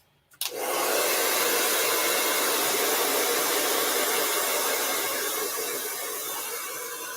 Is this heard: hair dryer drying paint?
yes